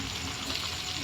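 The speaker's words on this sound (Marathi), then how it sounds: "सोया सॉस टाकते" Soy sauce hitting a hot pan of paneer chilli, giving a steady, dense sizzle that stays loud and even throughout, with no voices.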